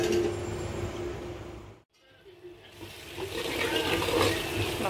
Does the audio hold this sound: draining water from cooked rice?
yes